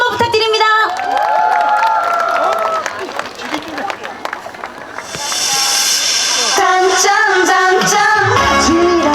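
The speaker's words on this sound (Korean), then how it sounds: "네, 여러분 박수 한번 부탁드립니다." A short burst of audience applause and cheering for a singer at an outdoor summer dance festival stage in Ulsan, rising between stretches of announcer speech and fading as the music starts.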